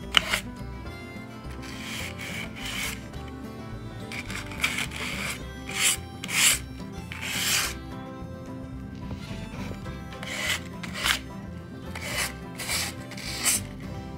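Sandpaper rasps over thrifted wood decor to distress it, a string of short scratchy strokes in uneven bursts, close and fairly loud with pauses between passes and no talking.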